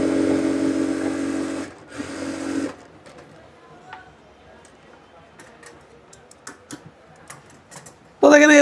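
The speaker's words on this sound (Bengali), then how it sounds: "এইভাবে পাটটা ঘুরিয়ে এখান দিয়ে ডবল সেলাই দিয়ে দিব" A sewing machine runs in loud bursts while double-stitching kameez fabric, pausing as the piece is turned, then starting again at the end, with quieter clicks and handling in between.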